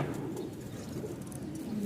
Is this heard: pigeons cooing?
yes